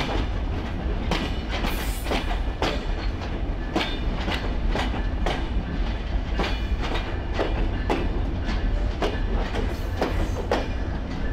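Rupashi Bangla Express rolling over the Tularampur rail bridge across the Bhairab River, a loud steady rumble with regular clickety-clack wheel beats repeating roughly every half second, heard from on board with no talk.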